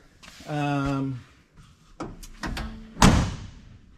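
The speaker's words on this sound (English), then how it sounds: "Door sounds awesome." A 1969 Ford F-250 pickup truck door slams shut once with a solid metallic thud, preceded by a voice and some handling noises nearby.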